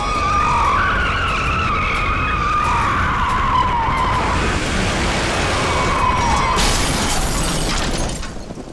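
A car's tyres screech in a long, loud skid as its brakes fail, the squeal wavering for several seconds before a harsh crash-like burst near the end, with no talking.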